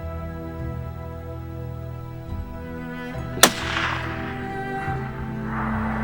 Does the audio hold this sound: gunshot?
yes